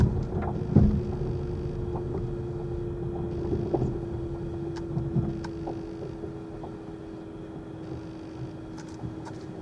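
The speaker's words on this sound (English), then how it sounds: "Humming sound is the pedestrian warning." A steady low electronic hum from a BYD Atto 3 electric car's pedestrian warning system runs continuously through the drive along the ocean on a windy day, under road and wind noise.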